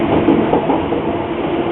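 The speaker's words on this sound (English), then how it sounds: "We're on the train." A moving train rumbles steadily with a muffled rolling hum and faint clatter, heard from inside a carriage, loud and continuous with no talk.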